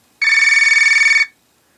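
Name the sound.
Firefox OS Classic Touchmatic ringtone on ZTE Open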